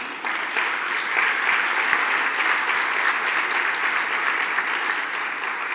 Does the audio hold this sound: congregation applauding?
yes